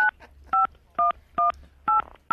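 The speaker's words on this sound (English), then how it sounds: "Don't punch it in on the phone." Telephone keypad buttons punched one after another, six short two-pitch DTMF beeps in a steady rhythm about half a second apart, close and clear with no talking.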